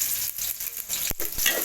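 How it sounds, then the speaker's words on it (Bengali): Onions frying in oil in a kadai, a close, even crackling sizzle with a few soft stirring scrapes toward the end, no speech. "পেঁয়াজ ভালো করে ভেজে নেব"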